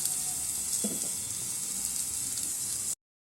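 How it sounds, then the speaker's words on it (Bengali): Cumin seeds and potatoes fry in a small amount of oil, a steady hissing sizzle close by with a brief soft knock, cutting off abruptly at the end. "জিরেটা বসে রোস্ট হয়ে যাচ্ছে। এপাশে আলুটা হচ্ছে"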